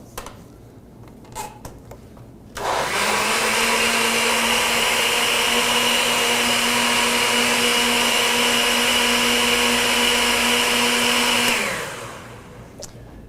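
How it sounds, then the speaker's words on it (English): A kitchen blender whirs at a loud, steady pitch for about nine seconds, mixing lemon juice, sugar, salt and water, then winds down, with faint clinks before and after. "Now we'll blend that up."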